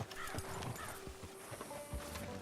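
Brief burst of horse hooves thudding with a high whinny breaking through, close and busy, in Red Dead Redemption 2.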